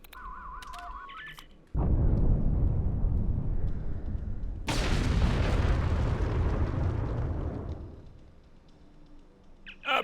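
Star Trek Online explosion, a sudden heavy roaring blast that swells into a second louder burst and rumbles for several seconds before fading, following brief electronic tones.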